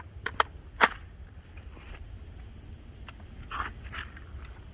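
A CMMG MK3 .308 battle rifle fires Wolf steel-case rounds, giving several sharp, irregularly spaced reports over a low background rumble, with no talking.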